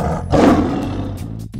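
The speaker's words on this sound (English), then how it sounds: "Tiger." A tiger gives one loud, rough roar that swells and fades over about a second, close and alone.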